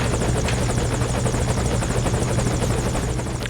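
In Metal Gear Solid V, a helicopter's rotor churns loudly and steadily with a continuous rhythmic chop and engine drone, close by and alone without talk.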